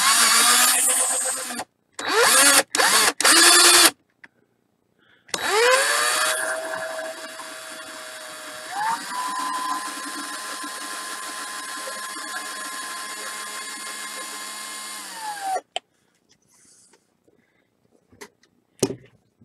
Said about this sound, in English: and drill through.